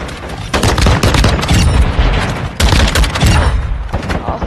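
Semi-automatic gun in a first-person shooter video game fired in loud, rapid, overlapping shots, with a brief gap before another sustained volley.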